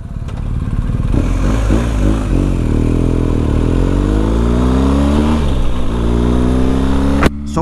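A 2024 BMW R1250RT motorcycle accelerates hard from first into second gear, its engine note climbing steadily and loudly, then dipping briefly at the shift before pulling on, with no talking.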